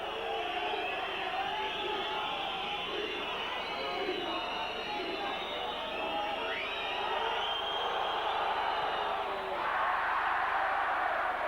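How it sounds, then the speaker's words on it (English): A St Helens rugby league crowd boos an opposing goal-kicker at a 1991 match against Castleford. The noise is a sustained, dense roar from a large stand that holds steady throughout and lifts slightly near the end. "Boos from the St Helens crowd."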